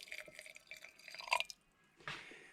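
Salted filtered water, about a third of a cup, is poured over shredded cabbage in a jar for sauerkraut, giving a short trickling splash followed by a brief pause and a second, louder pour near the end.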